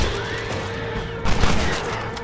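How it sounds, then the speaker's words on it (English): Explosive rifle fire in the Red Dead Redemption video game: a dense, crackling burst of gunfire and blasts that jumps sharply in loudness about halfway through and then tails off. "Explosive rifle."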